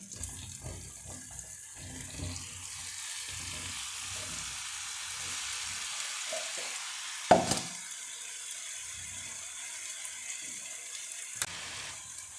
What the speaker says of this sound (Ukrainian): Так, цукор і масло наше розтопилося. Сюди я відправляю яблучка.